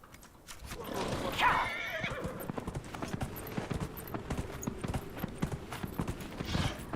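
In a video game, Dragon Age, a horse whinnies once near the start, then hooves clop in a steady walking rhythm, close and clear, continuing to the end.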